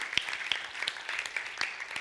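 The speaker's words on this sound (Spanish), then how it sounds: "Le da ese aplauso" Congregation clapping during a Spanish-language church service, a steady patter of scattered hand claps with a few sharper ones standing out, fairly close and with no talking.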